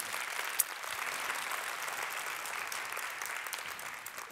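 An audience at an internet conference applauds, dense and even clapping from many hands that holds steady for several seconds, heard from a distance and fairly faint, with one sharper clap near the start.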